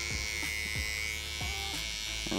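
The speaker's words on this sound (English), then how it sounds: "then finalize with the electric shaver" An electric shaver buzzes steadily close up while trimming facial hair during a barber's low skin fade service, with a constant motor whine and brief scraping strokes as it passes over the skin.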